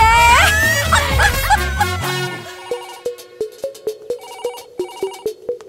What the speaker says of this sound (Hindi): कब से बज रहा है फोन, उठाने को नहीं होता